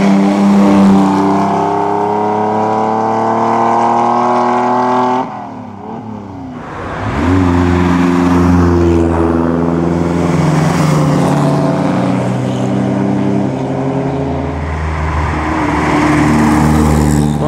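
Ferrari engine at the Mille Miglia classic road race, a loud close steady drone with strong engine harmonics that dips briefly as the car passes, then rises again with revving.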